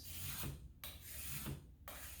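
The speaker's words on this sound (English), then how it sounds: "I use high precision sanding blocks" A Suzuki harmonica part is rubbed across a precision sanding block in two or three slow back-and-forth rasping strokes, quiet and close, with no voices.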